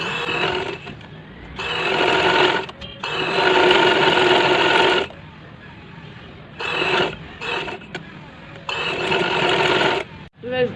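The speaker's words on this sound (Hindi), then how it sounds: "अब हम दूसरे किनारे पर भी सिलाई लगा देते हैं।" A sewing machine runs in several bursts of steady whirring as it stitches the edge of a child's frock, loud and close, with short pauses between runs.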